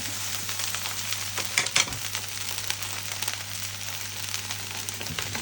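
Egg fried rice stirred in a hot pan, a steady sizzle and frying hiss with scraping stir strokes, close and continuous, with no talk.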